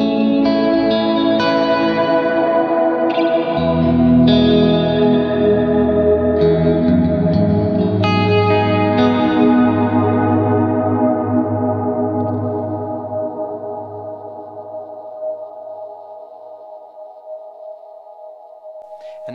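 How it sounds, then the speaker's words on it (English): A guitar tone runs through an effects unit with huge ambient reverb of the ionosphere and cavern type, layered sustained notes that swell and echo, then slowly fade into a long tail. "now it also sounds like it's in an enormous cavern. And so that really becomes an out of this world sound."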